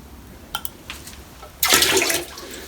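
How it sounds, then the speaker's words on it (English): A household toilet fitted with a self-cleaning bowl device flushes: a few small clicks of the handle, then a sudden loud rush of water that swirls and fades to a softer trickle. "So we've done 3 flushes."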